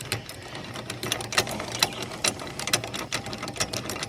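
A trailer jack cranked by hand after its snap ring is refitted, giving a steady run of close, rapid mechanical clicks and ratcheting taps with no talk.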